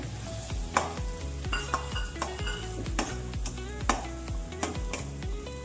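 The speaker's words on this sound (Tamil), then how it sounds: "கோதுமை ரவையை அதில் வறுத்து எடுத்துக்கலாம்" Wheat semolina sizzles steadily in hot oil while a spatula scrapes and stirs the pan in a repeating rhythm, close and continuous.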